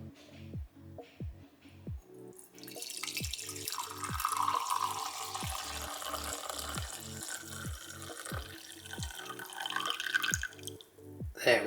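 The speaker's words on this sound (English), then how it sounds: "I've now got this little jug of black coffee, and I'm just going to pour this in my cup" Black coffee pours from a small jug into a cup, a soft steady trickle with regular dripping under it, quiet and close.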